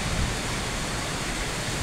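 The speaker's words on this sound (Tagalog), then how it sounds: "Oh, tingnan nyo yung ulan na yan," Dense, steady rush of heavy rain in Vietnam, a loud continuous broadband hiss with no pauses.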